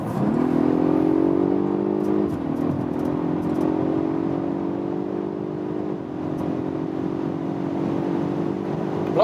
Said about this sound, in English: We can once more go to this power mode and acceleration when we are already at speed from 90 kilometers an hour